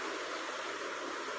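Finger millet grains are rinsed in water for making papad, giving a steady, loud wash of running and sloshing water with no pauses.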